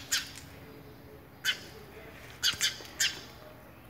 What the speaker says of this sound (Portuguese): Um filhotinho de passarinho